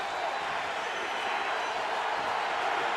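A stadium crowd of Pittsburgh Steelers fans roars in a dense, continuous wash of cheering and noise during a 4th-and-goal play at an NFL game, sustained at an even level throughout.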